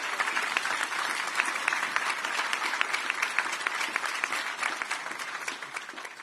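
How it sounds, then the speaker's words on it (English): A crowd claps steadily for several seconds at a city's State of the City address, dense and even applause filling the room without a break. "please give her a round of applause."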